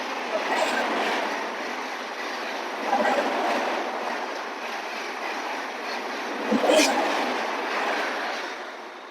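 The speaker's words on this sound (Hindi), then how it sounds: "चलिए ये ट्रेन निकल जाने दे। हाँ, ये ट्रेन निकल जाएगी तो अभी बात करेंगे थोड़ा सा।" A train rushes past nearby with a sustained broad roar that swells and fades slightly, marked by a couple of louder clatters, with a voice faintly audible beneath the noise.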